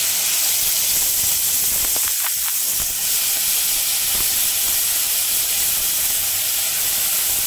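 Onion paste hitting hot oil with black cumin for a spicy pabda fish curry, giving a loud, steady hissing sizzle that fills the whole stretch without pause.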